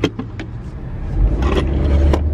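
A car engine revs while the car sits in park, a low rumble swelling louder halfway through with a few scraping knocks over it, close and brief.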